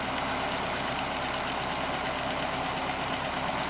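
An engine idles at roughly 500 RPM, giving a steady, unbroken mid-pitched drone with a faint rhythmic pulse. It is loud and close throughout, with no voices.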